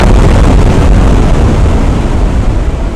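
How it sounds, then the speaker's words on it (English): Explosion sound effect of a blast ripping through the air, fire and debris bursting outward as a tower crumbles: a loud, dense, continuous rumbling roar filling the whole stretch without letup, with no voices. "Then the explosion ripped through the air, fire and debris bursting outward like a blooming flower of destruction."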